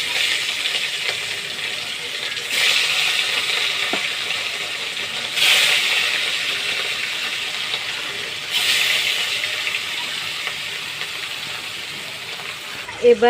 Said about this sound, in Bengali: এবার চলো মাছগুলো ভেজে আমার তেল গরম হয়ে গেছে এবার আমি মাছগুলো আস্তে আস্তে ছেড়ে দেবো